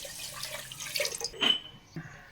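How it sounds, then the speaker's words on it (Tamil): Water splashes and trickles into a cooking pot for urad dal porridge, a short, close pour with small drips and sloshes, no talking. "இப்போ தண்ணியை இதில் விட்டுடலாம்."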